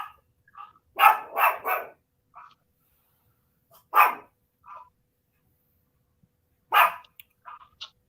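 A dog barks close by in short bursts: a quick run of three barks, then single barks and small yips spaced out over several seconds, with quiet gaps between.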